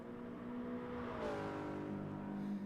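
A Gran Turismo race car, a Gr.4 machine at Laguna Seca, passes the start-finish line, its engine a steady moderately distant drone rising in pitch as it sweeps by.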